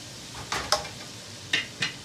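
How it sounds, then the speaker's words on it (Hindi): Soaked whole masoor dal going into a pan of frying masala: four short scraping, sizzling bursts from a spoon working through the mixture, fairly close over a quiet background. "तो आप इसके अंदर भीगी हुई दाल डालेंगे"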